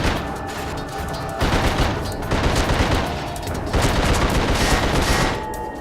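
Sustained bursts of automatic gunfire in the survival horror game The Suffering, loud and dense, coming in several long volleys with brief dips between them and no talk over it.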